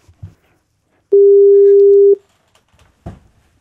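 A single steady telephone tone sounds for about a second while a call is placed on a German podcast, bracketed by brief clicks, with faint background noise and a thump afterward.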